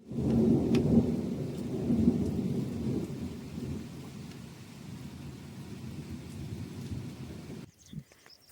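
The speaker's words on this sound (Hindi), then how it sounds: "अब आई भाई बारिश एकदम मस्त वाली" Heavy rain pours steadily at night at a cremation ground while low thunder rumbles and rolls, loudest early on, then the storm fades before a brief dull thump near the end.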